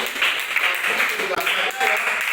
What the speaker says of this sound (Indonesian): Tepuk tangan buat kelompok satu.